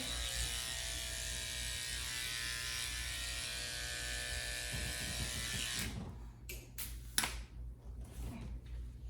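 Electric clippers buzz steadily while shaving the belly of a goldendoodle dog during home grooming, a continuous close mechanical hum that cuts out partway through, followed by brief clicks and handling noises.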